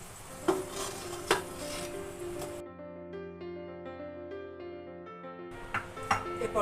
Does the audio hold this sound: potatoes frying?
yes